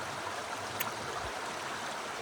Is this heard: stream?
yes